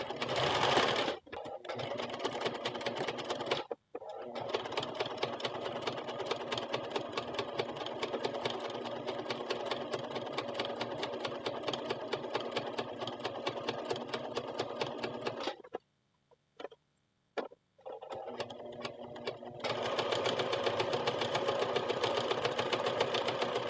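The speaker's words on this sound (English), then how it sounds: "And now I'm going to sew from the underside." A sewing machine stitching ribbon trim onto a blouse hem, running in a fast, steady mechanical whir. There are short pauses and a few brief stop-start bursts before it resumes at full speed.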